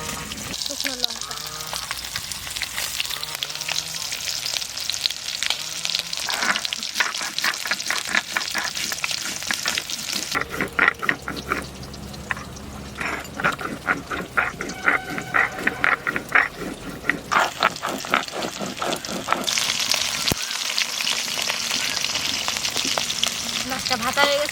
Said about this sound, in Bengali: মাছটা ভাজা হয়ে গেছে, এবার তুলে নিচ্ছি